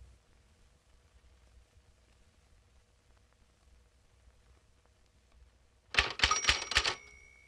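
Manual typewriter keys struck in a quick burst of about five sharp clacks near the end, after a long quiet stretch, with a bell-like ring among them.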